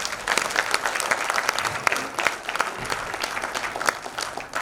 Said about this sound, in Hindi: इनके परिवार के लिए ताली बजाएं।